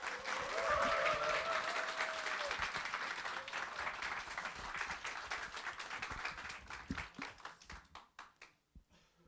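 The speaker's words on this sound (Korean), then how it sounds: "한번 큰 박수로 모시겠습니다." A church congregation in Uijeongbu applauds to welcome a visiting pastor. Clapping is strong at first, then thins out into scattered, separate claps that fade away, with some faint voices underneath early on.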